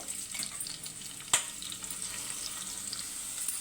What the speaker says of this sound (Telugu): ఇవి కొంచెం వేగాక ఉల్లిపాయ ముక్కలు వేసేసుకుందామండి, సన్నగా తరిగినవి.